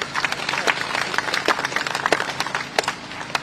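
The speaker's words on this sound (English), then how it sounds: "I think a huge round of applause to the speakers." An audience at a Commonwealth Day ceremony applauds the speakers, with scattered sharp claps forming moderate, uneven applause over a few seconds.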